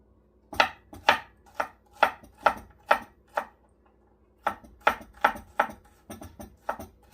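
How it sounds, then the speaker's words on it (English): Vegetables chopped on a cutting board while preparing pancit, with crisp knife strikes close by in quick rhythmic bursts, a short pause, then another run of evenly spaced chops. "Just chop it."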